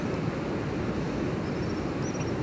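Sea waves washing onto a beach, a steady, fairly close, even surf hiss with no distinct breaking crashes and no voices.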